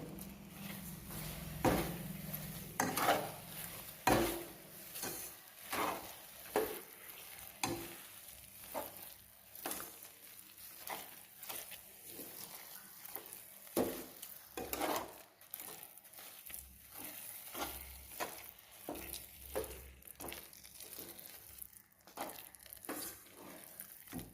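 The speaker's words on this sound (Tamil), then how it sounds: "இந்த சமயம் ஒரு கப் சர்க்கரையை இதில் நம்ம போடணும். போட்டு கிண்டி விடணும்." Sugar being stirred into bread halwa in a pan, a long run of rhythmic scraping strokes of a spoon against the pan over a soft sizzle, fairly quiet and with no talking.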